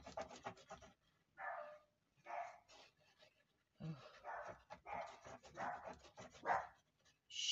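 Small dog barking indoors in short separate bursts, several sharp barks with pauses between them, quiet and somewhat distant in a room.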